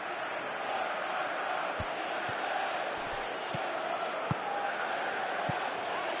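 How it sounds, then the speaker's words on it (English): Steady stadium crowd murmur and roar from a football video game on PS4, a continuous broadband wash with a few faint low thumps, while a commentator talks over it. "Crowd calling for him to shoot."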